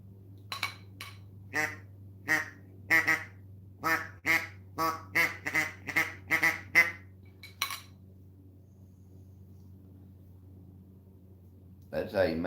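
A duck call is blown to imitate an old gadwall: a quick run of about a dozen nasal quacks in a steady rhythm, fairly close, followed by quiet.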